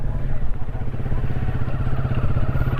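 Motorcycle engine chugging steadily nearby on a ride in the Digos Hills, a low throbbing pulse running continuously under background voices.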